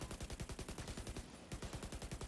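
Sustained assault-rifle fire from The Division 2, rapid and loud, in tight rhythmic bursts with a brief pause partway through before the shooting resumes.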